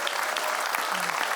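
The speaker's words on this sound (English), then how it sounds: "Yeah, you can clap for that." An audience claps steadily and evenly, a dense wash of hand claps from a church congregation filling the whole moment with no pauses.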